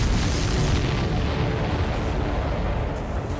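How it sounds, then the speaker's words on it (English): A loud, sustained booming roar of an explosion in the video game Ace Combat 7: Skies Unknown, dense and rumbling, slowly fading toward the end with no voices. "Did you see that explosion?"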